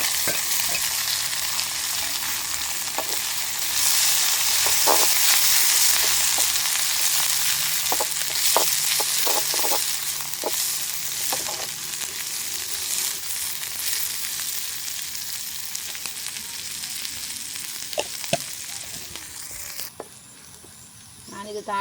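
Mustard seeds, fennel and chopped onion fry in hot oil for a village-style spinach and lentil curry. A steady, loud hiss runs throughout, broken by scattered crackles and pops, then drops sharply near the end.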